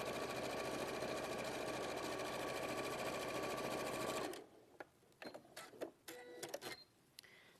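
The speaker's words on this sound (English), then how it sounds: "So I'm gonna sew just only the side of trousers and the right side together" Sewing machine stitching a trouser side seam with a quarter-inch allowance, a loud steady mechanical whir for about four seconds, then stopping into scattered handling clicks.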